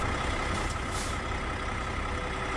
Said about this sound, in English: Let's hit the parking brake.